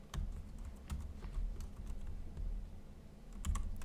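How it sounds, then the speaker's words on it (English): Quick, uneven typing on a computer keyboard, with crisp close key clicks in bursts over a low background hum and no voices. "You guys are going to test my typing ability tonight, though."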